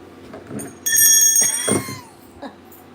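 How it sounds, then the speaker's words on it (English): A hand bell rung to mark a sale during a live evening jewelry auction: one bright, ringing burst that shimmers for about a second, then fades, with quieter clatter around it. "I haven't rung the bell all day."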